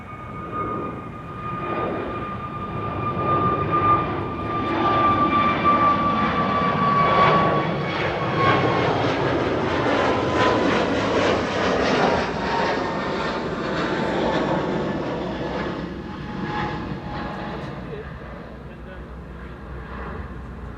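Jet airliner taking off from Kaagbaan runway 24 at Amsterdam Schiphol on a sunny day, a broad, sustained engine roar that swells and holds near-steady for twenty seconds before easing slightly as it recedes.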